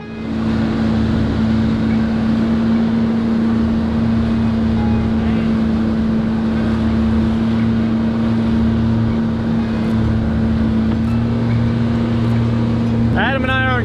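A bay boat runs its engine while trolling 35 miles offshore near Orange Beach, Alabama, giving a loud, steady drone with a constant low hum and wind buffeting the microphone, plus a short squeak near the end.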